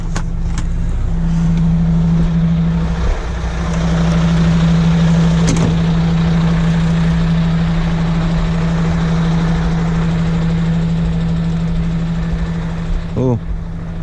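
A truck engine idles at night beside its trailer, a steady low rumble running close and constant, with a few brief clicks and knocks and some voices over it.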